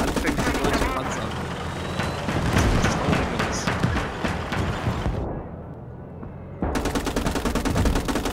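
Machine gun fire in the WWII game Gates of Hell hammers out in rapid, repeated bursts, loud and close, with a short lull before another burst, while a voice talks over parts of it.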